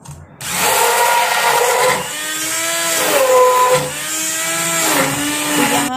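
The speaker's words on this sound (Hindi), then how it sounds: "अब हम इसको ब्लेंडर से कर देंगे," A kitchen blender mixes milk in a loud, steady whine lasting about six seconds, its pitch dipping and rising as the load shifts, with no talking.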